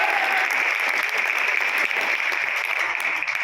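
A large seminar audience of a couple hundred people applauds steadily, a dense, even wash of clapping that holds at a constant level from start to finish with no voices over it.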